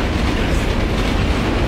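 Train rumbling along inside a Condemned: Criminal Origins game level, a loud, steady low roar of rolling wheels and rattling cars heard from within the carriage, with no voices.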